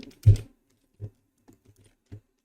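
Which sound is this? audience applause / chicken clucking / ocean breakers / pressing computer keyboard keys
pressing computer keyboard keys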